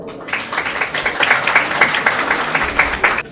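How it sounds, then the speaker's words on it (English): A studio audience at a televised quiz competition claps for the PMS girls contestants, a steady dense patter of many hands lasting about three seconds before tapering off. "Clap for them."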